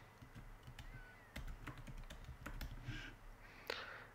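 Keys clatter steadily on a computer keyboard while an email address is typed in, a run of quiet, irregular clicks with a few sharper taps, close by and with no voices.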